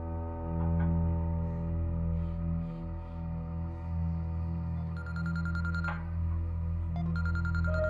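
A telephone ringtone trilling in bursts over a steady low electronic hum, with repeated short ring patterns toward the end and no talk.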